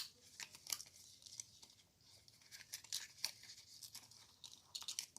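A paper box made from card stock is folded and creased by hand, giving quiet, intermittent crinkles and sharp crackles at close range with no talking.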